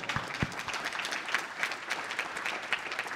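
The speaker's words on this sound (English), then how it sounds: "Wait, I'm going to clap." Small group clapping at a developer conference speaker panel, a fairly close patter of individual claps with a slightly uneven rhythm.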